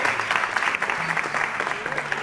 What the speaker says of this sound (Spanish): ¡Un aplauso ahí!